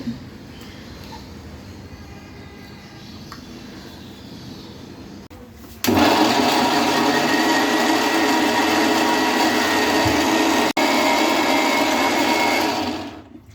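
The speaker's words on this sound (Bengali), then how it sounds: "ব্ল্যান্ডারে আমগুলোকে ব্ল্যান্ড করে নিব" An electric blender purees mango pieces for a sweet mango preparation. A softer hum is followed by the motor kicking in loudly and whirring steadily for several seconds before spinning down.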